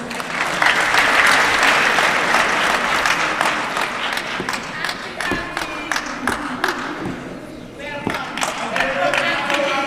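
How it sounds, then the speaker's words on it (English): Audience at an official opening ceremony bursts into loud, dense applause that fades into scattered individual claps, with a voice over it near the end. "A round of applause for the representative of the UNDP."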